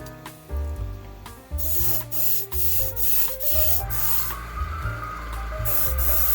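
A Bucasso airbrush sprays freshly thinned paint with a close, steady hiss, broken by short bursts as the trigger is worked and a little spatter comes through, with no talk.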